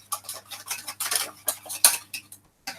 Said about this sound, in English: We've got a good whisk. Get all the lumps out.